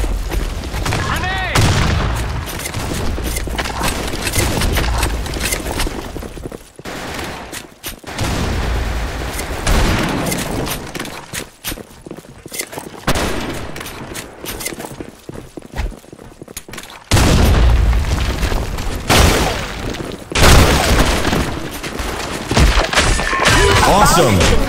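Repeated loud grenade blasts and bursts of gunfire in the shooter game BlackShot, heavy booms recurring through a dense, continuous battle mix with voices calling out between them.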